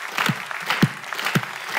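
An audience claps for an honour student at a school-graduation broadcast, producing a continuous patter of hand claps with a few heavier, evenly spaced thumps standing out in a short burst.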